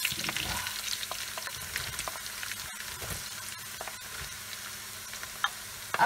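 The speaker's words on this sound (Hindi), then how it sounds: "अब हम इसमें डालने वाले हैं प्याज।" Chopped onions dropped into a pan of hot oil with green chillies, sizzling and crackling loudly and steadily up close, with occasional stirring scrapes and spatters.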